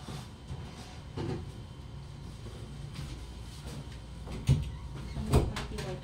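A door is pushed shut indoors, giving a couple of dull thumps and a sharper knock near the end over a steady background rumble.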